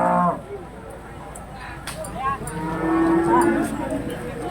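Limousin cattle moo at a livestock market in Glenmore, Banyuwangi, a few drawn-out lowing calls close by amid crowd murmur and background voices.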